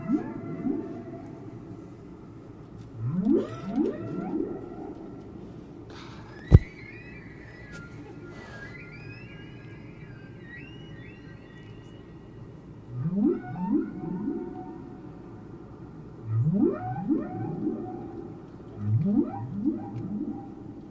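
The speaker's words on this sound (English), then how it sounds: "This time of the year, if there's whales hanging around, they will do some singing." Recorded humpback whale song plays in long, low, sweeping moans and rising calls, coming in several phrases with quiet gaps between, plus one sharp click partway through.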